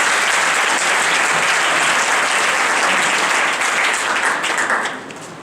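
Seminar audience applauding, a dense sustained burst of many hands clapping that fades out toward the end.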